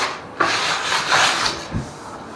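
A bathtub surface is rubbed down by hand with 400 grit sandpaper, producing close, raspy scrubbing strokes in a few uneven back-and-forth bursts, with no talking.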